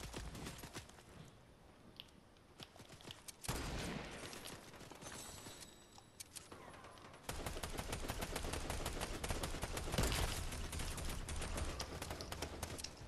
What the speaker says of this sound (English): they're shooting her